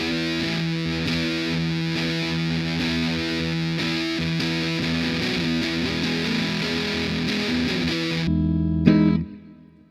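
An electric guitar through a cheap Temu fuzz pedal sustains thick, saturated chords, closer to distortion than true fuzz, buzzing steadily and loudly before a final strum rings out and decays.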